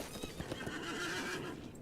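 A horse in Lord of the Rings Online whinnies once near the mic, its call riding over a steady bed of clip-clop hoofbeats from the ride across Wildermore in Rohan.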